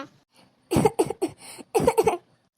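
A person coughs in two short clusters of rough, repeated hacks, close and fairly loud, with quiet moments around them.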